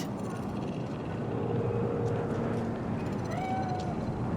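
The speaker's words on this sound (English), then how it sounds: "Fine-looking feline." A cat meows in Cyberpunk 2077, a couple of short, thin cries rising over a steady low city ambience rumble, moderately faint and without speech.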